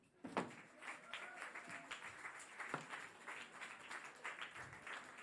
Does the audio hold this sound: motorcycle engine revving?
no